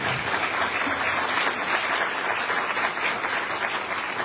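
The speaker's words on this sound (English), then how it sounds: "please applaud for them" Loud, sustained applause from an audience, many hands clapping together without pause.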